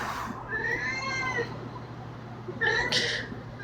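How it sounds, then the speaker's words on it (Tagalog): A house cat meows several times indoors, drawn-out wavering cries close by, with a brief pause between calls and a faint steady hum underneath. "Meow! Meow!"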